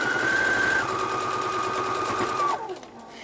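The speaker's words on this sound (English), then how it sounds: "I am just going to sort of start in the middle and just stitch in the ditch all the way around" A sewing machine stitches in the ditch around a potholder, running fast and steady up close with a whirring hum that slows and winds down near the end.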